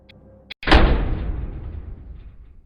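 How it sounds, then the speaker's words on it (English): A garage door falls and slams against the ground, a sudden loud crash after a brief click, followed by a long rumbling decay. "the garage door suddenly fell down behind me, slamming against the ground"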